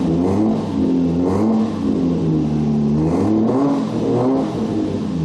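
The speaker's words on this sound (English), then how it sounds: "So let me rev it here." A Toyota Supra engine with a failing air-fuel ratio sensor revs up and down in loud, close, sustained swells, the pitch rising and falling several times without any talk.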